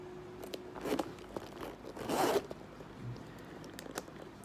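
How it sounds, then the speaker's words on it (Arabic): A zipper on an Oriflame handbag is drawn shut with a close, raspy zip, followed by small clicks and handling noises, one longer zipping run in the middle. "السوستة بقى، السوستتين لما بيتقفلوا"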